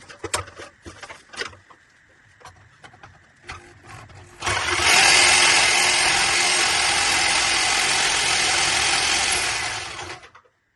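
After a few clicks and taps, a loud SDS rotary hammer drill runs steadily for about six seconds, a dense grinding roar close by, then stops.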